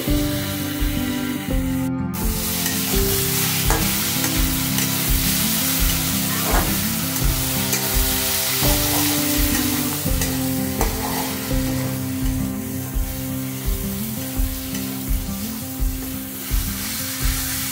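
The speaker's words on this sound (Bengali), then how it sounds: "এটাকে ভালো করে কষিয়ে নেব।" Pomfret fish masala with chili powder sizzles and crackles in a hot pan, a continuous frying hiss with occasional stirring scrapes, set under steady background music.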